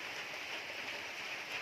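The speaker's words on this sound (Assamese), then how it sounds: "বৰষুণৰ মাত্ৰ আপোনালোকে শুনা পাইছে চাগে" Soft, steady rain patters continuously at a distance, a faint even hiss with no voices.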